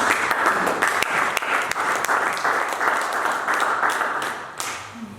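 A church congregation applauds during a worship service, dense, continuous clapping filling the room with sharp individual claps standing out, no voices over it.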